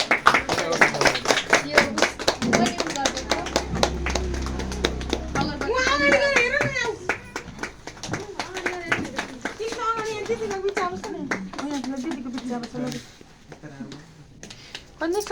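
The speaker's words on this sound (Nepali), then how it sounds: "ताली बजाउनु है सबैले।" Hands clapping at a farewell ceremony during a lamp-lighting, a dense patter of claps running through most of the clip under continuous talk and voices.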